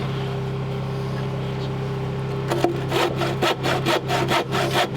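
Hand saw cutting wood boards for a cabin deck in Alaska, a rapid series of rhythmic rasping strokes starting midway over a steady low engine hum, close and loud.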